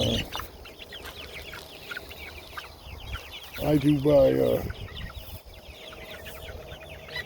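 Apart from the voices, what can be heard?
chickens clucking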